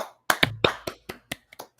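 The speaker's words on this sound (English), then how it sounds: "Let's give her a Stoke Podcast round of applause" A small round of applause for a guest on a podcast, a handful of sparse, separate claps and hand taps, close and fairly quiet, with no talking over them.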